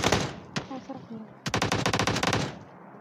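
Gunfire in a video game, a single sharp shot followed by a rapid, loud burst of automatic fire, with brief game or voice sounds mixed in.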